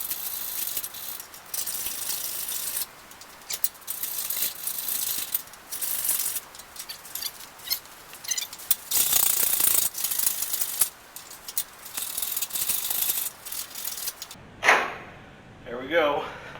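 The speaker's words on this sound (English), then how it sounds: "I did find that I had a old school file" An old, unused hand file works out holes in a broken metal rat rod headlight mount, a rapid rasping in repeated strokes under a voice, followed near the end by a few louder clunks.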